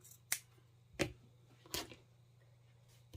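Scissors cutting fur fabric for a gnome hat at an angle, three sharp distinct snips spaced about a second apart over a faint steady hum, quiet and close.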